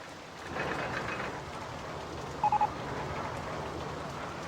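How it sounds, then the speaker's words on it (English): Steady hiss of rain falling in RollerCoaster Tycoon, a constant soft wash with a brief beeping game tone partway through. "the rain just started"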